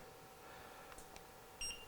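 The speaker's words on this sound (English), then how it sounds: "you might have heard the little beep when it fired" A Hensel Certo studio flash gives a short, bright electronic ready beep near the end, clear above low room hiss, after a couple of faint clicks.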